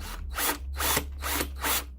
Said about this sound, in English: let's see if we can drill this hole accurately